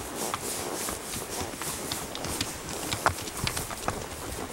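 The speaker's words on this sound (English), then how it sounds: "And these are Grayson's ponies." Ponies walk on the ground at Grayson Highlands State Park, their hooves making a loose, uneven clip-clop over steady outdoor noise, moderately close.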